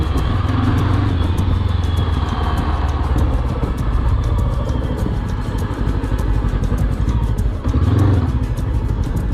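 A Morbidelli T502X 500cc motorcycle on a test ride, its engine droning loudly and continuously up close with steady rumble and slight rises in revs.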